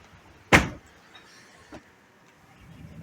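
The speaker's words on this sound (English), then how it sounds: "I'm just going to close these doors now." Caravan veranda doors closing at Haven Golden Sands in an ABI St David Premier caravan: one sharp close thud followed by a fainter knock, in a quiet room.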